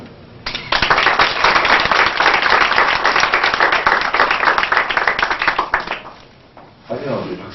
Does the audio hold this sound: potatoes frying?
no